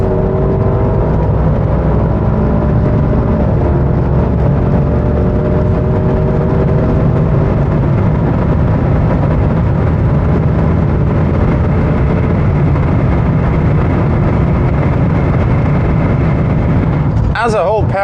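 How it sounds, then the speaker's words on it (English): Steady loud rumble of wind and tyre roar inside the cabin of a Maserati Quattroporte GTS at high Autobahn speed, continuous and unchanging, with a voice talking over it and a brief burst near the end. "You're just hearing wind noise and road noise."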